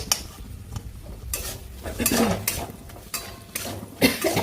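A spoon stirs chilli sauce into a sauce mixture for chicken Manchurian, giving a series of close, clinking scrapes against the bowl or pan in irregular bursts over a low background hiss, with no talking.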